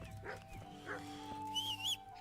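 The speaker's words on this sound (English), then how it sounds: "I can hear him barking" A dog barks a few times in the video game Kingdom Come: Deliverance, short yelps spaced through the moment, with a horse-like whinny and in-game ambience alongside.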